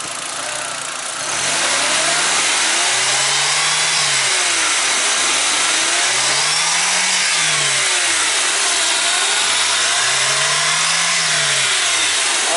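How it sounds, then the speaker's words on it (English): An MK4 VW Golf/Jetta/GTI engine, freshly fitted with a solid dogbone mount bushing, revs repeatedly while in park, rising and falling in three smooth swells over a steady idle, loud and close with no talk. "Put it in a park and rev it."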